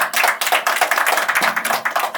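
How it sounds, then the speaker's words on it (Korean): Audience claps during a book concert talk event, rapid, dense clapping close up with a quick rhythmic patter that stays loud throughout. "박수 한번 부탁드립니다"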